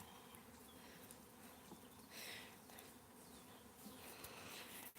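Honeybee swarm buzzing around a hive box near a fallen tree, a dense continuous hum with individual bees droning closer past the microphone now and then, no talking.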